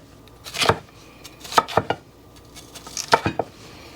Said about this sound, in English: cut it in strips